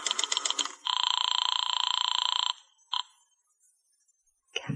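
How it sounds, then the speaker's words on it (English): A telephone rings in an old radio drama, with a buzzy burst of rapid clicks, a long steady electric ring, then a brief short ring after a pause, loud and close with no voices. "I went over to the phone and called Madame Natasha's Temple of the Zodiac."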